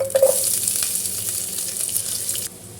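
Sliced onion hitting hot coconut oil in a pan, giving a steady bright sizzle with some spattering, which cuts off and quiets near the end, with no voices.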